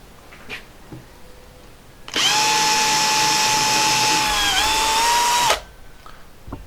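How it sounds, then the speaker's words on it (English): A universal wood-and-metal power drill bores into a laptop part, whirring steadily for about three seconds at high speed, its pitch dipping briefly under load before it stops; quiet room tone surrounds it. "Now this is a universal drill"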